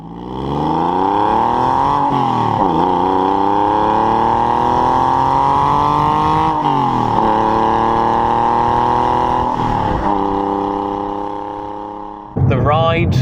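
A Porsche 996 911 Targa drives with a steady, loud engine drone from inside the cabin, rising in pitch through the gears with brief dips at shifts and a final clunk near the end, and no talking.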